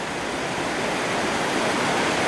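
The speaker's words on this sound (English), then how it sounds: "the storm has freshened up all the streams here, and this one's just tumbling down" A mountain stream swollen after a storm rushes and tumbles in a loud, continuous roar of close, churning water, unbroken and without voices.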